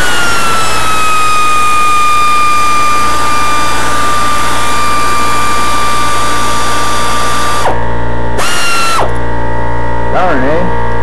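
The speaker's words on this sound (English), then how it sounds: "Sorry about the air compressor." An air compressor runs loudly in a garage during gasket work on a 2001 Ford Escape V6, a steady motor whine that cuts off near the end, leaving a few short bursts and hisses.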